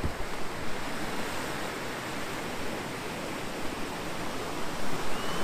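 Sea waves wash onto a beach in Sri Lanka at dawn as fishing boats head out, a broad, steady roar of surf with gentle swells near the end, no voices.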